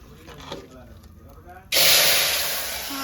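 Hot tempering (vaghar) of cumin and curry leaves for dal dhokli hits the pot with a sudden, loud sizzle that roars up and then slowly eases. A voice talks quietly before the burst.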